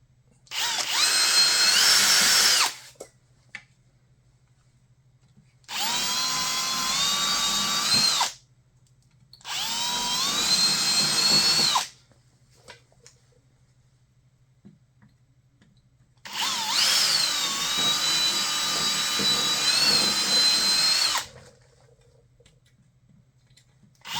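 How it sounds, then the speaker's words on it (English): A small power drill with a 3/32-inch bit, drilling a carbon fiber exhaust end cap, runs in four separate bursts of a few seconds each, whining loudly with short silent pauses between them. "ultimately I had to go up to a 3/32 drill bit"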